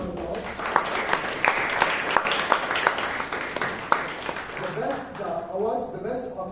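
A Toastmasters meeting audience gives a round of applause: dense, moderately loud clapping that fades after about five seconds, after which a speaker's voice takes over.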